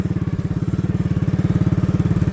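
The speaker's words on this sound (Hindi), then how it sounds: "आगे से ट्रैक्टर ट्राली आ रहा है" A tractor pulling a trolley approaches along a canal road, its engine chugging loudly in a steady, rapid, even thump with no voices over it.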